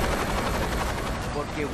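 Rapid automatic gunfire in the video game Saints Row 2, a dense, continuous burst of loud shots crowding the whole moment, with no pauses between them.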